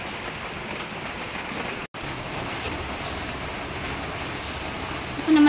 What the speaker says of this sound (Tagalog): May bagyo kasi, maano ang ulan